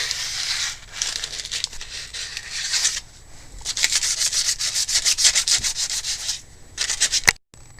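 An ML350-type Mercedes brake disc surface is sanded by hand to roughen it for new pads: close, loud, abrasive scraping strokes in long bursts with brief pauses, and no talking.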